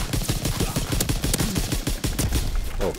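Rapid bursts of M1A1 carbine fire in Call of Duty WW2, shot after shot in quick uneven succession, loud and close, with no talk over it.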